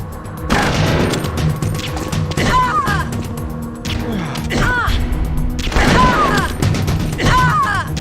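Sustained bursts of gunfire and crashing impacts in the video game Metal Gear Solid: The Twin Snakes, loud and dense, with rapid clusters of shots and metallic clatter layered over continuous action noise.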